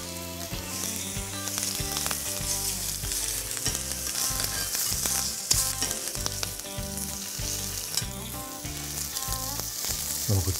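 Gambas (shrimp) frying in a very hot pan, giving a loud, steady, crackling sizzle that runs unbroken throughout, with no voices over it.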